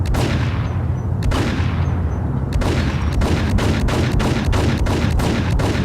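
Rapid bursts of gunfire crackle through a Max Payne game soundscape, a couple of heavy booms early on, then a steady run of sharp shots in quick succession.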